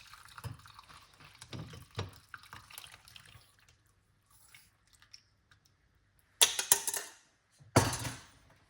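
Short bursts of liquid pouring and splashing through a strainer, two louder pours near the end, separated by quiet drips and faint clinks.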